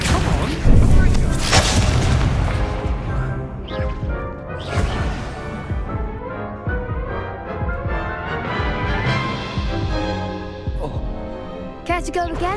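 Confringo explosive spell cast in a Hogwarts Legacy duel, a loud booming blast with crashing impacts under a dense, rumbling game soundtrack and effects, followed by further hits and swells over about twelve seconds.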